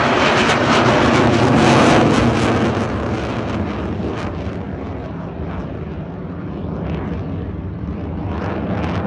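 An F-16 fighter jet performs a dirty roll at the Farnborough airshow with landing gear and flaps extended, its loud, continuous engine roar rising and then holding steady as it passes, with wind buffeting the microphone.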